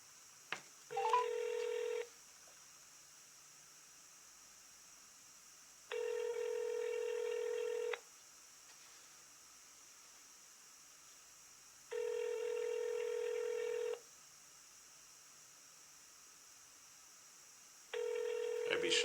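An outgoing call's ringback tone repeats in evenly spaced two-second bursts with long silent gaps between, a clean electronic ring-pulse pattern heard alone.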